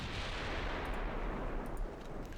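Battleship turrets firing in the naval game Ultimate Admiral: Dreadnoughts, a steady rumbling barrage of heavy gunfire with dense low booms rolling continuously throughout, no voices.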